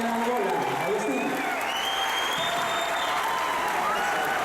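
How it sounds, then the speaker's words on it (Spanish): Applause from a live audience at a speaking event in Angola welcoming a guest speaker, dense steady clapping filling the whole stretch with crowd noise and some voices mixed in. "Fuertes palmas para Agustín Laje con nosotros aquí en Angola"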